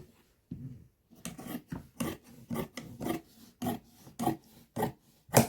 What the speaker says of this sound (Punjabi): ਬਾਕੀ ਕੱਪੜੇ ਨੂੰ ਆਪਾਂ ਨੇ ਕੱਟ ਦੇਣਾ ਇਸ ਤਰ੍ਹਾਂ